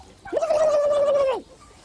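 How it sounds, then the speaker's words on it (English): A turkey gives a single loud, close gobble lasting about a second, a wavering rattling call rising then falling away, with no talk over it. "Here are some turkeys."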